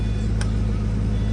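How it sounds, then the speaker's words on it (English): A Holden Monaro VXR engine rumbles deep and steady at close range with its exhaust valves closed, its low exhaust drone holding even throughout. "So that's your normal exhaust note"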